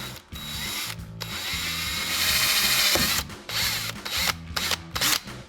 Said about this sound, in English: I'm just gonna go ahead and drill this out